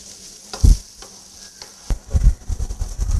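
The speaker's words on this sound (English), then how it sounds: "chopped onions. So wait till nicely sweated off before we put the spices on." Chopped onions sautéing with pounded garlic in a pan, a soft background sizzle punctuated by several close knocks and scrapes of a spoon stirring against the pan.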